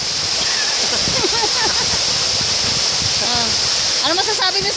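Pongas Falls in Sagada pours in a loud, constant rushing roar close by, a dense unbroken wash of water noise while several people chat over it.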